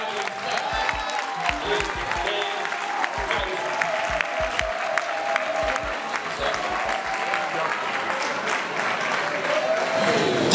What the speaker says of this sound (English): Can we clap for my next?